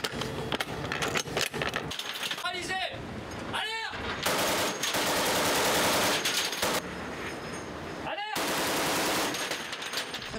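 A 12.7 mm heavy machine gun firing aboard the nuclear aircraft carrier Charles de Gaulle, with loud rapid bursts separated by short pauses, sharp and close, with wind and deck noise between bursts.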